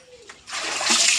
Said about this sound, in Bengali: এই আলুগুলো একটু ধুয়ে ফেলো তো।